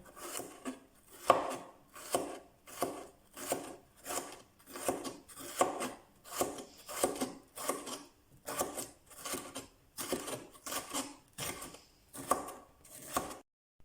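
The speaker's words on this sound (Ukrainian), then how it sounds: "Перець нарізаємо соломкою." Bell pepper is cut into thin strips with a knife on a board, a steady series of about twenty evenly spaced, crisp slicing chops, close and clear, with no voices.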